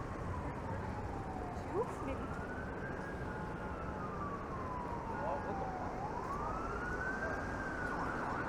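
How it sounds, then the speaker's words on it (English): A fire truck siren wails up and down from a distance on a Toronto street in Leslieville, the sweeping tone rising and falling in slow cycles over low traffic rumble heard from a moving ride. "Sounds like maybe a fire truck headed in this direction."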